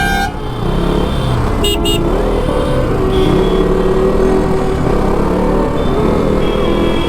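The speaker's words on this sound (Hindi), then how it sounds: "ट्रैफिक कितना है यार" Busy road traffic heard while riding a KTM RC 200 motorcycle, with a constant engine and road drone and a couple of short sharp car horn toots, plus a longer horn note midway.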